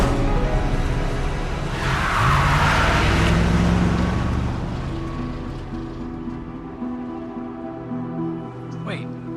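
Car driving away outside a hospital, a broad engine swell that peaks early and fades steadily into the distance over low ambient hum.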